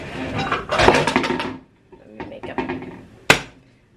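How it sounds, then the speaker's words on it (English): Metal pans clang and bang loudly in a burst, then a few more scattered clanks and one sharp crash, with a voice talking over parts. "Let me make a joyful noise with my pans here."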